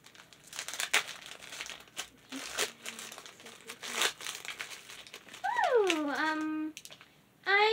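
Plastic and cardboard Barbie toy packaging crinkles and tears in short bursts close by, then a few brief squeaky toy-like chirps; no talking.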